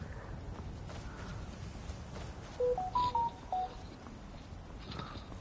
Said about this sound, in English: Sorry about that, guys. You can hear my phone.